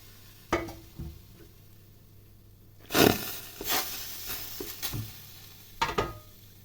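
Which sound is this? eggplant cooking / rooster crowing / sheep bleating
eggplant cooking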